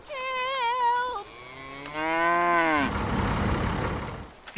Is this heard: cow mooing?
yes